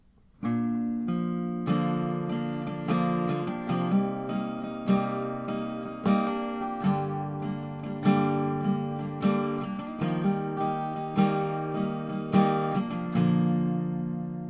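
An acoustic guitar plays a steady strummed chord progression with a relaxed rhythm, clear and close, with no voices.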